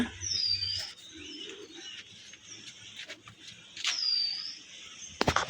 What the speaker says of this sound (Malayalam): ഇത് കിളികളുടെ സൗണ്ട് കേട്ടപ്പോൾ ഇങ്ങനെ വന്നതാണ്